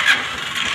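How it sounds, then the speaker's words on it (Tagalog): A Honda TMX125 motorcycle engine, running on battery drive after a stator bypass, catches and runs with a steady mid-pitched hum, close and fairly loud, with no talk over it. "So umandar na ang ating motor."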